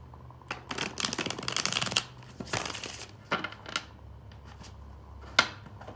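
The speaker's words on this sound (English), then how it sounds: "One more shuffle." Tarot cards being shuffled in several quick riffling bursts, close up, with soft taps and a sharp snap near the end.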